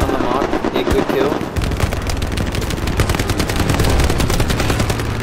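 Machine gun fire in Hell Let Loose, rapid rhythmic bursts of automatic shots that grow into a sustained, loud rattle after the first second, mixed with battlefield ambience and a voice speaking over it.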